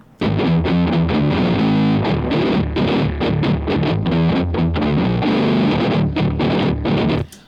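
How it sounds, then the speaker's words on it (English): A pitched-down drop-tuned electric guitar riff played through a heavy distortion patch, loud and dense with chugging palm-muted rhythm and sustained chords, playing alone without any voices. "Now here's our drop version using the same distortion."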